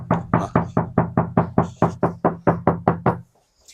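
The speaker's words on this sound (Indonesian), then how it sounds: "Ini suaranya ini terasa cempreng banget, terasa tipis, body platnya ini di bagian sini nih terasa tipis sekali" Steady knocking on the thin sheet-metal body panel of a Honda WR-V, about fourteen even, hollow raps at a quick regular pace, close and clear with no talk.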